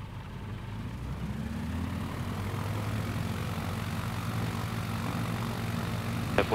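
A propeller aircraft in a flight simulator drones steadily through its takeoff roll, the engine tone rising slightly as it accelerates, loud and continuous throughout with a brief click near the end.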